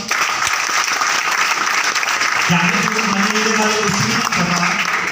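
Loud, sustained applause from a crowd at an award seminar, dense clapping filling the whole stretch, with a voice speaking over it in the second half.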